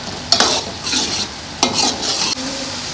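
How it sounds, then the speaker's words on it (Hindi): Masala with chickpeas roasting in a pan, loud and close, with bursts of hissing sizzle and scraping as a spoon stirs in several strokes, sharp clicks at the start of each stroke, and no one speaking. "अब इसकी भी अच्छी तरह भुनाई कर लें, कम से कम 2 से 3 मिनट।"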